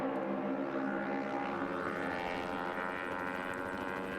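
Lucas Oil helicopter flying overhead above the lead group at a MotoAmerica Junior Cup motorcycle race at Road America, a steady droning rotor and engine wash holding evenly throughout, moderately loud and continuous with no talk.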